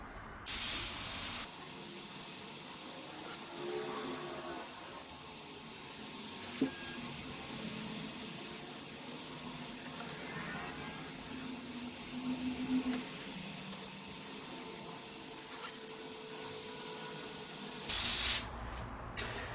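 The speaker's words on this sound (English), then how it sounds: "I want to keep the angle of the airbrush pretty direct and sort of parallel to the track" An airbrush sprays paint onto N gauge model railway track in a series of soft, close hissing bursts separated by short pauses, with a sharper blast at the start and another near the end.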